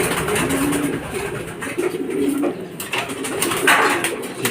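Racing pigeons coo at a loft during a club race arrival, soft repeated coos over a busy outdoor background with brief rustling and knocks.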